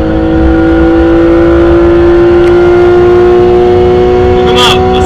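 A Porsche accelerates hard at a drag race, its engine droning loud and steady with strong harmonics, while people talk excitedly nearby and a brief burst of crowd noise rises near the end.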